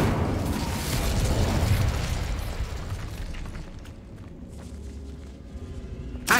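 A big roaring blast from the Incendio fire spell in the video game Hogwarts Legacy, loud at first and then rumbling away into a fading crackle, with a sharp pop at the very end.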